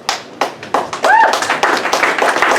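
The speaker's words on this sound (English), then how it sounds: "Let's clap it up for her." Audience clapping at the 40th anniversary ceremony of the McClendon Institute for Learning sounds as sparse, uneven claps and taps that thicken into a steadier patter, with a brief high whistle-like sound in the middle.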